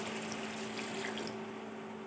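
About a cup of water is poured into a pot of simmering beef curry, a soft, steady trickling and splashing heard close by and fairly quiet, with no talking.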